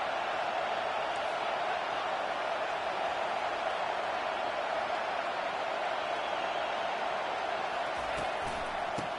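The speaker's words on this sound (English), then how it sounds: "This crowd trying to make life miserable for this offense." Stadium crowd noise in a college football video game forms a dense, constant roar that holds steady at high level throughout, with no distinct breaks or individual voices standing out.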